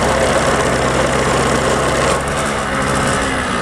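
A Balkenmäher bar mower's small engine runs steadily at close range, a loud, continuous drone with even texture that dips slightly in level partway through, with no talk.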